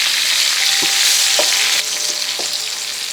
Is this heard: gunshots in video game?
no